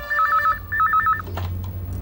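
A telephone rings in a Hindi TV comedy scene, two short trilling bursts of electronic ringing with a brief gap between them, close and clear, then fading into room noise.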